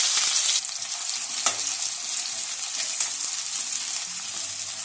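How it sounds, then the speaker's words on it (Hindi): Cumin, chopped green chili and onion frying in hot oil: a steady, bright sizzle throughout with occasional soft clinks and stirring scrapes, no voices. "ऑयल गर्म हो चुका है। अब इसके अंदर एक चौथाई चम्मच जीरा डालेंगे, इसके अंदर कटी हुई हरी मिर्च डालेंगे, अब इसके अंदर कटी हुई प्याज डालेंगे"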